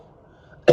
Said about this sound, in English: I'm getting a tiny little cough